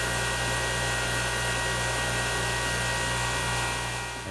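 Power tool grinding down the plastic surface of a Wonder Woman bracer from a DIY kit, a continuous high whirring drone held steady and close, fading slightly at the end, with no talking.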